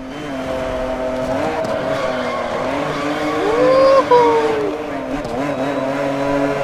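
Lamborghini Countach racing in Need for Speed: Most Wanted, a loud sustained engine drone that climbs and drops through gear changes, with a sharp tire squeal partway through.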